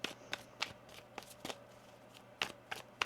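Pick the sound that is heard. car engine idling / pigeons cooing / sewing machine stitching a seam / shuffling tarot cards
shuffling tarot cards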